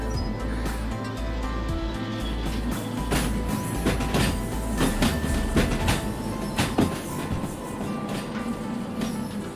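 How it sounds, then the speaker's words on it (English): Freight cars roll and clatter through a hump yard in the train simulator Derail Valley at night, with rhythmic wheel clicks, metallic knocks and a low rumbling drone throughout. "I'm doing some hump yard shunting here"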